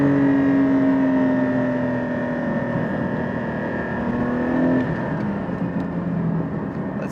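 Porsche 718 GT4 engine while driving, a steady droning hum from the cabin that holds a constant tone, then drops in pitch midway before settling into a lower cruise.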